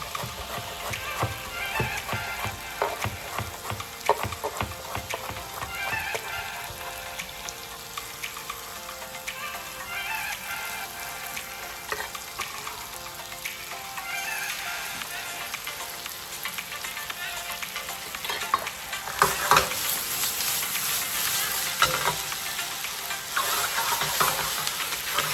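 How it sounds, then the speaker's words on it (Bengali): Chopped fenugreek leaves are stirred into aubergine and potato frying in a pan, giving a continuous sizzle with repeated scraping and clattering stir strokes, close and busy, growing louder and brighter toward the end. "এবারে মেথি শাক কুচি করে মেথি শাক মিশিয়ে দিন।"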